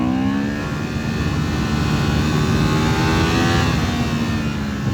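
A 2023 Honda CB750 Hornet's twin-cylinder engine revs hard toward its rev limiter, a loud, continuous rising roar at close range with no voices over it.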